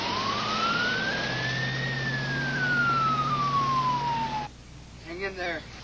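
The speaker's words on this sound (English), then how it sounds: "A mobile medic ambulance was immediately dispatched to the scene" Mobile medic ambulance siren wailing in a long rising then falling sweep over steady engine rumble, loud and near, ending abruptly before a brief voice is heard.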